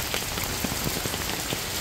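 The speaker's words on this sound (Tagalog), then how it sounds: "Maulan po ang panahon ngayon. Paulan-ulan na po." Steady rain falls on a mountain in the Philippines, a dense, even patter of drops on surfaces that continues without pause and with no voices.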